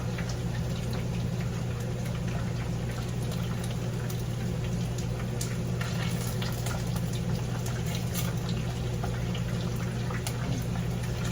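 Chicken wings fry in hot oil in a steady, close, crackling sizzle that runs unbroken and evenly loud from start to finish, with no voices.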